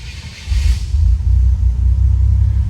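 A 1986 Oldsmobile Cutlass with a fuel-injected Grand National engine starts up close by: a brief crank, then a loud catch into a deep, steady rumbling idle.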